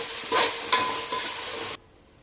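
Handfuls of mint and coriander are stirred in a frying pan, a few sharp scraping strokes over a bright sizzle that cuts off abruptly near the end, leaving near silence.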